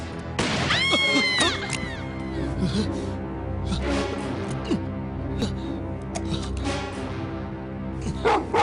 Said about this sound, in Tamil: இன்னும் விசுவாசத்தோட லொல்லி லொல்லுன்னு குலைக்குது